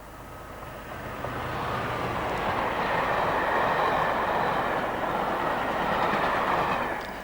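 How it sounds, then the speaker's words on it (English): A Class 67 and a Class 47 locomotive double-head an empty Bristol to Plymouth mail van train, a loud rumbling roar with rail clatter that swells as it passes close and then eases away. "Old and new together as the 67 and 47 double-head the Bristol to Plymouth empty mail"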